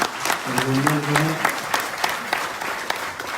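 An audience claps steadily through a Kolkata honour ceremony held by BJP workers, with some tonal crowd noise early on. The applause stays fairly loud and continuous for several seconds.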